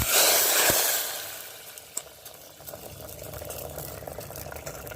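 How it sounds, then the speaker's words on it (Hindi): Hot mustard oil poured over kasuri methi and green chillies sets off a loud, hissing sizzle that gradually settles into a softer crackle with small pops. "उसके ऊपर ही डाल देंगे गरम खौलता हुआ मस्टर्ड ऑयल"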